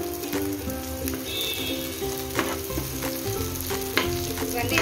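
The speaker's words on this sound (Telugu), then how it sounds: "పచ్చిమిర్చి, జీలకర్ర, నువ్వులు వేపుకున్నాము కదండి" Green chilies, cumin and sesame seeds frying in a pan for a cucumber chutney, a close steady sizzle with crackling pops and occasional stirring scrapes.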